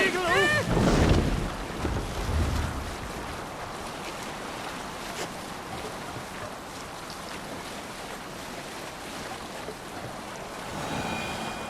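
A sailing ship moves across the sea in Assassin's Creed Valhalla, with steady wind, rushing waves and hull noise throughout and a voice calling out briefly near the start.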